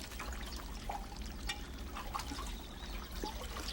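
Spring water piped continuously into a basin beside a pool of ornamental carp, a steady trickling pour with small splashes and drips, close and unbroken throughout.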